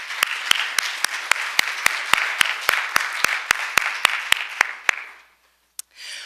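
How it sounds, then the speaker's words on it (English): A church congregation at a Unitarian Universalist Sunday service claps for about five seconds in a dense, fairly close wash of applause with sharp individual claps cutting through, then it stops abruptly, leaving a single stray clap and faint room noise. "So let's give ourselves a round of applause."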